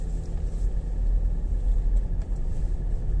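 A car drives through the autumn streets of Jelgava, Latvia, heard from inside as a steady low road rumble and engine hum, with no talk.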